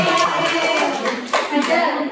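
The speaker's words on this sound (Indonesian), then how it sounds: "Tepuk tangan buat Faisal." A classroom of students claps for a classmate during an Arabic lesson, brisk bright clapping from many hands close by, continuous for about two seconds with faint voices mixed in.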